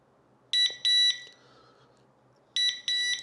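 Sharp, high-pitched electronic beeps from a DT Systems Baritone beeper dog collar come in paired bursts, two quick beeps, a pause, then two more, loud and close against near silence.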